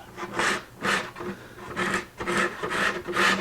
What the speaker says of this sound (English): just a little scraping to do here